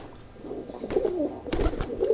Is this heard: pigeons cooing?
yes